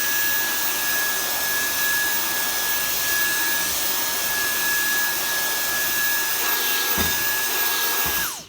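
Dyson V10 cordless vacuum cleaner running on max power, a loud steady whine with a sharp high tone held for about eight seconds, then spinning down abruptly at the end.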